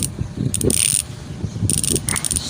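Freehub ratchet clicking from a HASSNS Pro 7 bicycle hub, the louder, stiffer of two units, coming in close, crisp bursts of rapid clicks with short pauses between spins.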